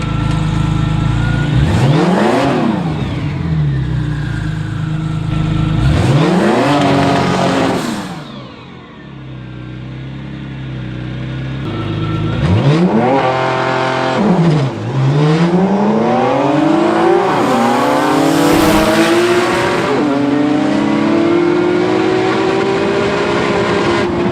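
A tuned Nissan GT-R of about 2000 horsepower accelerates hard on a one-mile run, loud engine roaring up through repeated gear changes with rising pitch sweeps, a brief dip mid-run, then pulling strongly again, no voices.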